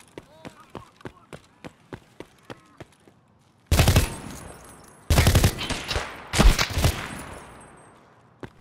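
A series of light, regular clicks or steps gives way to several loud bursts of rapid gunfire from a gun in a video game, each burst separated by a short gap.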